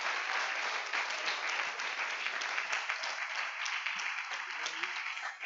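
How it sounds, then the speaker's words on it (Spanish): A Spanish-speaking church congregation breaks into applause, a sustained, fairly close burst of many hands clapping together that stays full and even with faint voices mixed in. "Dele un aplauso a Jesucristo"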